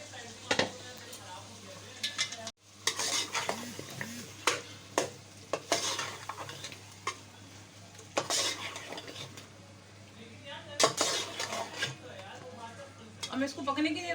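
Potatoes and eggplant frying in a pan with tomato masala, giving a soft sizzle under repeated scraping and clinking of a spoon against the pan, loud stirring bursts spread across the clip.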